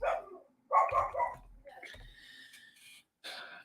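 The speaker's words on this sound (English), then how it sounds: "Can you hear that dog barking?" A dog barks nearby in a few short, sharp yips and barks spaced irregularly across the moment, with quiet gaps between them.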